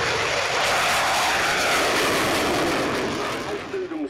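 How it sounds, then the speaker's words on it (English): A loud, broad jet roar from Eurofighter Typhoon fighters in a flying display fills the air and holds steady, then fades slightly toward the end as the aircraft passes. "These two Eurofighter Typhoon FTR-4s, both from number 1 Fighter Squadron."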